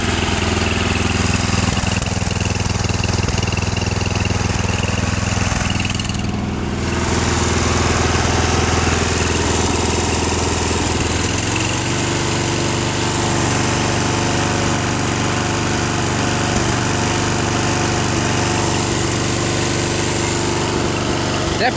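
A John Deere 210 lawn tractor with a Kohler K341 16 HP engine and the wrong carburetor runs continuously nearby, a loud rough drone with a slight miss and a shift in tone partway through.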